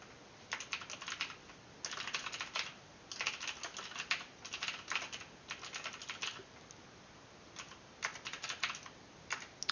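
Quick bursts of typing on a computer keyboard, crisp clustered keystrokes in several runs separated by short pauses, close and alone in a quiet room.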